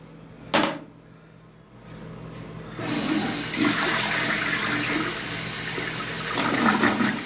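A toilet in Miami flushes with a sharp click of the handle, then a rising rush and a sustained loud gurgling swirl of water draining away, close and alone.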